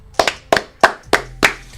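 Five sharp hand claps in a steady, evenly spaced rhythm, close and loud, with no talking.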